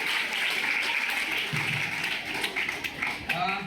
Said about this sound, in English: a very, very big clap for everybody